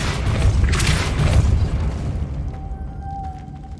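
In Hogwarts Legacy, a Depulso spell goes off with a heavy booming blast and a rumbling surge that fades out, followed by a faint high magical tone at the end.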